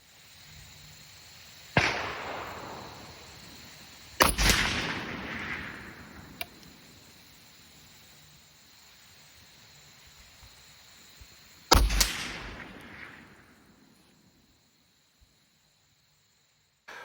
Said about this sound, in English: I fired out those 2 rounds to add to the group that I already fired.